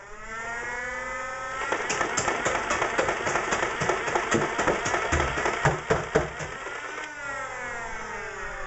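A Nerf Rapidstrike CS-18 foam dart blaster's flywheel whirs up to a high steady whine, with a rapid run of clattering shots, then spins down.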